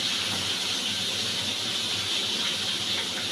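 Fish head frying in hot oil for dal, giving a continuous bright, even sizzling hiss that holds steady throughout, close and fairly loud with no talking.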